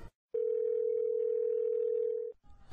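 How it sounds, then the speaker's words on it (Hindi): A single steady electronic telephone ringing tone from an outgoing call, sustained for about two seconds before cutting off. "जुटाकर विश्वास ने स्तुति को कॉल कर दिया।"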